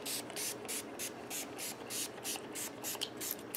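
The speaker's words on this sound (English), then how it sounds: "Now I'm just going to spray some of this guitar polish cleaner on it." Guitar polish cleaner sprayed onto a guitar in about a dozen short, quiet hissing bursts at an even pace, close and alone with no talk.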